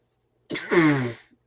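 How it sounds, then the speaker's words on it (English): A single sneeze, close and fairly loud: a sharp intake burst followed by a longer voiced release, alone in silence. "I gotta sneeze."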